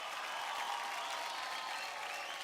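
Studio audience on a Marathi dance reality show breaking into applause, a dense, even wash of clapping from a large crowd, heard faintly and steadily throughout.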